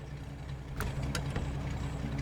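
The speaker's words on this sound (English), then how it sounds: "So turn this engine off." A truck idles in the video game SnowRunner with a steady low engine rumble, broken by a few short sharp clicks and hisses partway through.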